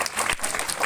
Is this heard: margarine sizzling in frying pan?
no